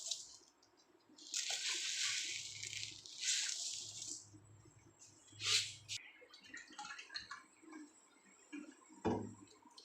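Water poured from a bowl into semolina and sugar in a pan for sooji laddu, with splashing pours in several bursts, some clinks and drips, close and fairly loud.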